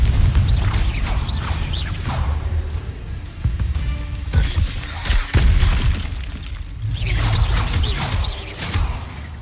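Confringo blast spell explosions in the Hogwarts Legacy video game, several loud booming bursts with whooshing tails and rumble, spaced across the clip at close range.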